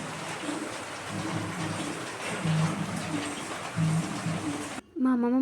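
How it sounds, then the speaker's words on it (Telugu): Heavy rain falls outside as a steady dense hiss that continues throughout, while someone talks over it in the foreground, her voice dominating and cutting off briefly near the end. "అందుకని వర్షం వల్ల మీకు ఆ సౌండ్ వస్తుంది."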